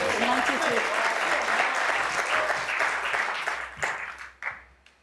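Snooker crowd at the World Grand Prix applauding and cheering a pot during a first-round match, sustained loud clapping that thins and fades toward the end, with commentary voices underneath.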